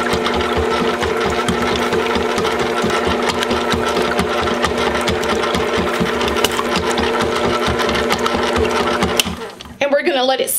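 A kitchen stand mixer whirs steadily as yeast is stirred into a butter roll dough mixture, loud and close, winding down near the end with a brief clatter.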